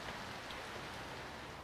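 Steady rain falling outside, a dense even hiss of drops with no talk and no breaks.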